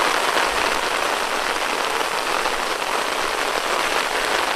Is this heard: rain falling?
yes